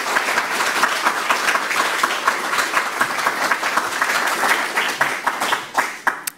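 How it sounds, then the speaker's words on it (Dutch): An audience at the SPUI25 lecture venue claps after a talk about B.F. Skinner, producing thick, continuous applause with a few louder individual claps standing out before it fades. "En een applaus voor Pier Prins en Arnold van Emmerik."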